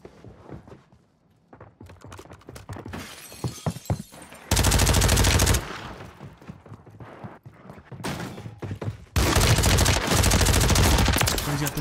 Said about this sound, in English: I almost stopped shooting my gun